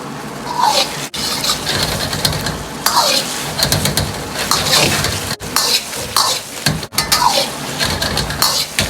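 Braised tofu with scallions being pushed around a wok with a ladle, with repeated scraping and clinking of metal on metal over a steady sizzle of simmering sauce, close and busy, with brief pauses.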